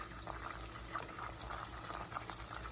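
Chopped onion and shallots added to about a third of a cup of hot oil in a pan, giving a steady, faint crackling sizzle with small pops throughout, with no talk.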